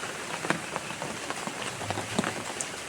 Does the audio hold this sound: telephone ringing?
no